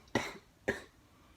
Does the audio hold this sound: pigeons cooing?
no